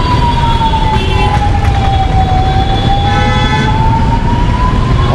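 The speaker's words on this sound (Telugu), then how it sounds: "ఆ సైరన్ ఏమో చాలా లౌడ్ ఉన్నది" An ambulance siren wails steadily while passing along a road, a long sweeping tone that stays loud throughout over a dense rumble of traffic, with brief horn toots mixed in.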